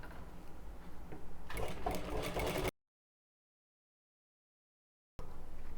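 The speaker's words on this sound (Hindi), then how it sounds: "ये सीधी साइड है, इसको भी हम सेम उसी तरह से सिलाई लगाएंगे।" A sewing machine stitches a fabric seam on a kurti or plazo with a steady mechanical whirring hum. It stops abruptly for a couple of seconds of silence, then starts running again.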